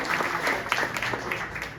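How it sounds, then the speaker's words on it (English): A room of voters at a Green Bay campaign event for Steven Olikara bursts into dense, continuous applause that holds at an even level throughout, with a few cheers mixed into the clapping. "Let's give him a round of applause for working on"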